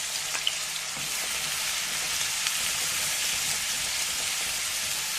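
Onion frying in hot oil after mustard seeds, sizzling loudly and steadily up close as an even hiss with a few faint pops, no voices.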